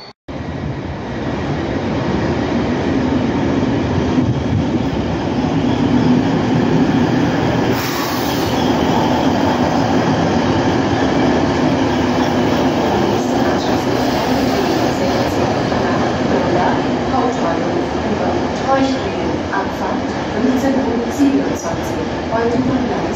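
A train rolls into Augsburg main station, a loud continuous rumble of wheels and carriages close by with rail squeal and clatter, while platform announcements and voices carry over it.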